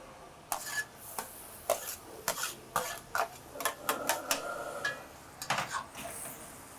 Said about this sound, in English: Now this is where you add everything back in. So let's put the tofu in.